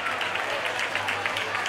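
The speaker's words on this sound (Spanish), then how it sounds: "fuerte aplauso para Vero." Audience applause at a town fair program, steady sustained clapping from a crowd, close and even throughout.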